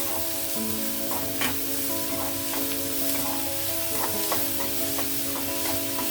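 Sliced onions with salt fry in a pan for an egg paneer curry, a continuous soft sizzle with occasional light scrapes of a stirring spoon and a steady tonal hum underneath, no voices.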